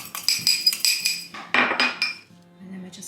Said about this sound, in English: Give that a bit of a whisk.